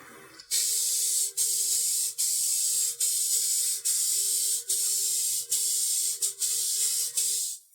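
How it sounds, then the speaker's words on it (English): Close, loud hiss of a spray can of lacquer coating a reclaimed wood end table, in repeated long bursts, about ten sprays in a row separated by brief pauses. "we're going to hit this with a couple of coats of spray lacquer"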